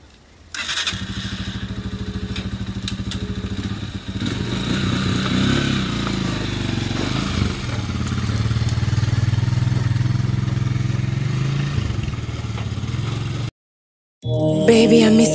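A motorcycle engine starts and settles into a steady idle, a continuous mid-pitched rumble lasting several seconds before cutting off abruptly, followed by a brief burst of other sound.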